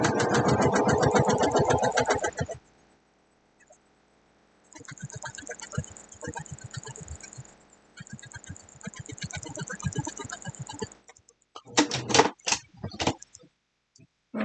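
A sewing machine stitches a quilt seam in rapid bursts of mechanical whirring and needle clatter, stopping between runs, with a few sharp clicks and handling noises near the end.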